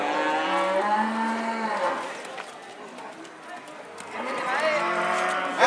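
Large cattle, including bulls, at a livestock market moo in long, loud, drawn-out calls, one near the start and another near the end, with people talking in the background.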